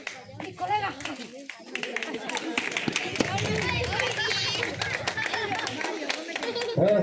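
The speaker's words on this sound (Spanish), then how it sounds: "¡Un aplauso más, Pedro!" A crowd claps at an outdoor Gran Circo Calamidad circus show in Pasarón de la Vera. A voice talks briefly before dense, steady clapping builds and continues to the end.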